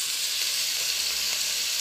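Oil sizzling and frying steadily in a pan at the bottom of a pot while preparing chorba, a continuous close bright hiss with no talking.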